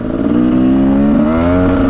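A 2016 Husqvarna 300 TE two-stroke enduro motorcycle accelerating hard, its loud close engine note rising steadily in pitch and holding a strong revving drone for the whole stretch, no talking.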